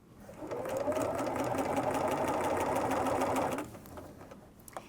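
A sewing machine runs a straight topstitch at a steady, slow pace, its even whirring motor hum continuous and close for several seconds before stopping, with no talk over it.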